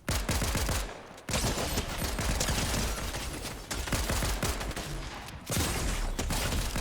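Rapid gunfire in a first-person shooter game played on an RTX 2060 Mobile laptop, loud and dense bursts of automatic fire and shots that run almost nonstop, with two brief drops near one and five and a half seconds.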